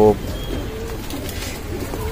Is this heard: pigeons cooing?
yes